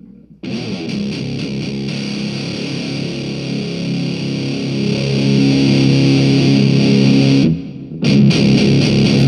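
Heavily distorted electric guitar through a Behringer fuzz pedal with a fuzzy, saturated tone, held chords ringing loud and steady, briefly cutting out before resuming.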